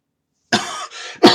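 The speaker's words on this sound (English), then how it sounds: "I've got a lingering cough from a cold I had several weeks ago." Two sharp, close coughs follow each other in quick succession after a moment of silence.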